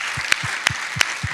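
Audience clapping along at a live talk, with a steady crowd applause bed and a few sharper claps landing in a regular rhythm, no speech over it.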